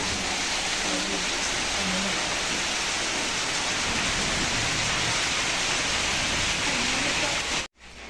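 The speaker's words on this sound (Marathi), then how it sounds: "एवढा घरात पाऊस पडायला तर काय जाते" Steady heavy rain pours down at the start of the monsoon, a dense continuous hiss filling the whole stretch before cutting off abruptly near the end.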